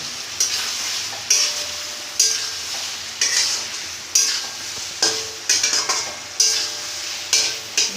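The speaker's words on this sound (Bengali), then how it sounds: "ভালো করে মশলার সঙ্গে কষিয়ে নেবো আলুটা" Potatoes with spices fried in hot oil, for an aloo potol chingri curry: a steady close sizzle broken by regular scraping stirs about once a second, with no voices.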